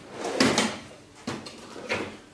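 A small drawer holding welding flux slides open in a workshop where a motorcycle exhaust is being fabricated, giving three quick scraping knocks spaced about a second apart, close and moderately quiet.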